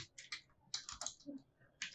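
Typing of a password on a computer keyboard, with quick bursts of key clicks in irregular clusters, close and fairly quiet, no talking.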